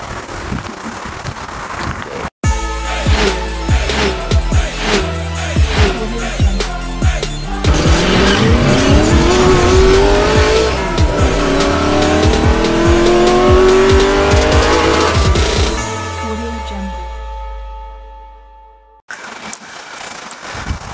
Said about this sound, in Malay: jadi inilah dia kereta Audi A5